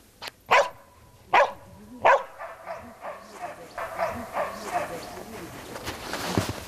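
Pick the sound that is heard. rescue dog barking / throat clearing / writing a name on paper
rescue dog barking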